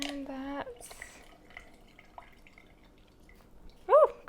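Orange juice drips and trickles in small, faint splashes as fresh oranges are squeezed by hand in a kitchen, with a voice heard briefly at the start and again at the end.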